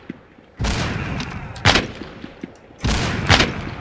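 A rocket turret firing in the video game The Walking Zombie 2 produces three loud, dense bursts of blasts in quick succession, each a second or so long, with booming impacts and no talking.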